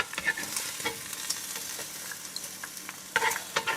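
Bacon sizzles quietly in a pan of rendered fat at a German-style barbecue, with a soft crackling hiss broken by light scrapes and clicks as the strips are moved around.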